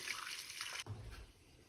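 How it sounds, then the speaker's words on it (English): Cooking water pours from a pot of boiled lentils into a bowl as they are drained: a steady splashing gush that stops abruptly partway through, followed by a few low sloshes and drips. "Now I'm going to drain them in this bowl because I need to keep the water."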